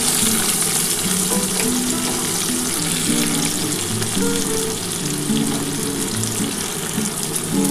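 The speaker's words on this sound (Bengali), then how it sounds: "আমি একটু হালকা করে কিন্তু এগুলো ভেজে নেব।" Ginger, garlic and onion frying in a pan give a steady, loud, close sizzle that runs unbroken throughout, with no talking.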